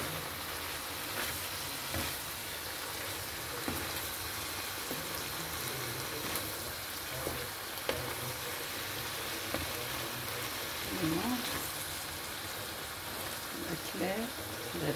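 Red and green peppers fry in a pan for fajitas, giving a steady, moderate sizzle that crackles throughout, with a voice speaking over it.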